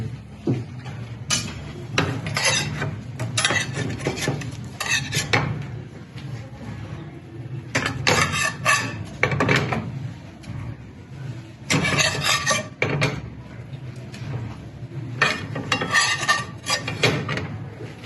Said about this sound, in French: En plus, je vais ajouter les morceaux de viande.